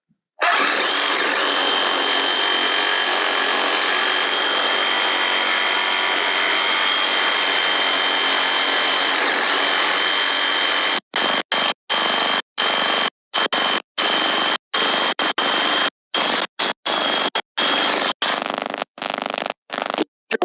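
Power saw fitted with a metal cutting blade, used while replumbing a toilet: a loud, steady whine runs for about ten seconds, then breaks into a string of short bursts as the trigger is pulsed.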